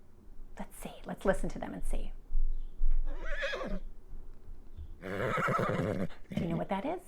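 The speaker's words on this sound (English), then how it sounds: "That's the sound of a horse." A recorded horse whinny played back for preschool children in a classroom, heard as bursts between a teacher's speech, fairly close and clear.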